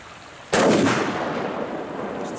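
Firecracker laid loose on the ground going off as a single sharp, loud bang about half a second in, followed by a long echoing outdoor decay.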